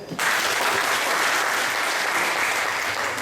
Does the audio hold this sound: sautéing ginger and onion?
no